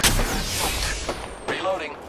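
Gunfire in the video game Apex Legends, a loud sustained burst of booming shots that fades, then a second thump and faint echoes toward the end.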